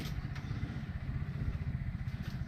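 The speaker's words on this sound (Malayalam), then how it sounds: "ഇതാണ് ഇതിന്റെ എഞ്ചിൻ കേട്ടോ." The engine of a modified 1983 Lambretta scooter idles close by, a low, steady, slightly uneven putter with no other sounds over it.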